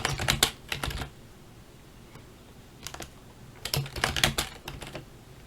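Keys typed on an old Logitech G15 computer keyboard, heard close up in several quick bursts of clacking keystrokes with short pauses between, alone in a quiet room.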